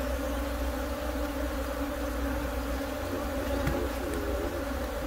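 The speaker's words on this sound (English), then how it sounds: "So, I've got a whole lot of bees on the inside of this box." Honey bees buzzing densely inside a hive box during a canola-season colony split, a continuous close, steady hum with no voices.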